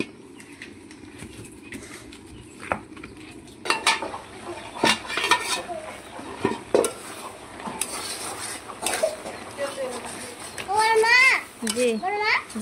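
A spoon stirs a vegetable curry with tomato and eggplant in a pan on a home stove, scraping and clinking against the metal in irregular bursts, with children's voices and chatter in the background.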